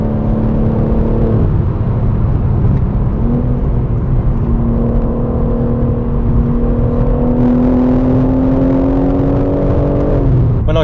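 A BMW M car accelerates on the road, its engine note climbing steadily through the gears with rising whine and a brief dip between shifts, close and continuous with no talk.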